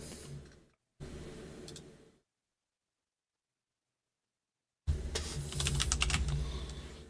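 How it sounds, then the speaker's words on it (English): Fingers type on a computer keyboard in a studio podcast setting, giving soft, rapid clicking bursts. A silent gap falls between the stretches of typing, and the clicks grow louder toward the end. "Wait, what are you typing?"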